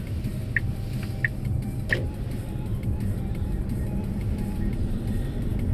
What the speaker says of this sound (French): il y a une voiture qui arrive.